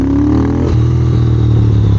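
A 2022 Triumph Speed Twin motorcycle engine on a dyno with a custom tune, revving steadily at high throttle with a loud, continuous close-up drone that steps in pitch partway through.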